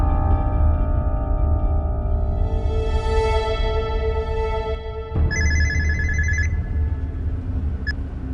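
A telephone rings steadily for several seconds with a bright electronic chirping tone, fairly loud and close, alone with no talk over it, in a domestic drama scene.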